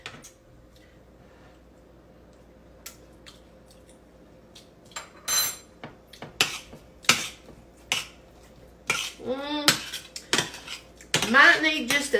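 A small spoon clinks and taps against a dish while apple pie filling is tasted, sparse sharp metallic ticks at first, then a busier cluster of ringing clinks toward the end, close and with no talking.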